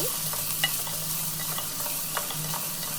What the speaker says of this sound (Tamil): நல்லா வெங்காயம் ப்ரௌன் கலரில் வர வரைக்கும் வதக்கிக்கோங்க